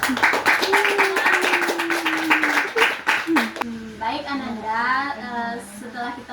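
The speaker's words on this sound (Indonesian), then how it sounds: "kita beri aplaus dulu ya" A class of children claps in a quick, rapid burst of applause for a few seconds, then a voice speaks clearly over the fading room.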